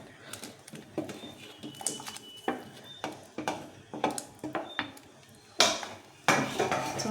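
Mutton curry with masala being stirred in a pot: repeated metallic scrapes and clanks of a spoon against the pot in an uneven rhythm, close and fairly loud, with faint background noise.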